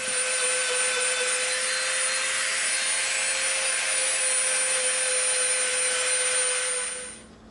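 Rotary tool fitted with a smooth sanding bit works EVA foam, giving a steady high-pitched whine with a constant tone that runs unbroken and loud before spinning down and fading at the very end.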